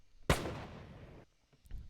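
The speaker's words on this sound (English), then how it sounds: "So I've got some gunshots," A single sharp gunshot-like crack followed by a long, rumbling decay that fades out, with a couple of faint clicks afterward.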